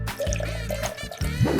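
Milk poured slowly into a blender for a fruit smoothie, a steady liquid trickle with dripping and filling sounds running through the pour.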